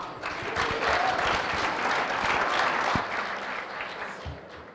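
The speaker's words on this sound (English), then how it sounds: "Well done. Let's clap for her." An audience at a youth capital market forum in Kigali claps together for a speaker, a full round of applause that swells, holds, then tapers off near the end.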